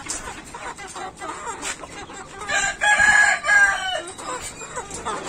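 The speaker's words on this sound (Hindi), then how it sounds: "अभी मैं बड़े मुर्गे को खोलता हूँ।" A desi rooster on a poultry farm crows loudly and close by amid clucking hens, with scattered background noise around the calls.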